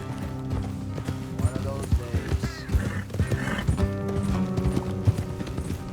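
Horse hooves clip-clop steadily at a trot in Red Dead Redemption 2, with a whinny and game music or ambience underneath, some voices mixed in.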